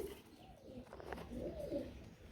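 Pigeons at a market, including a Shalik pigeon, coo softly and rather faintly, a low burbling murmur that runs through the short stretch with no talk.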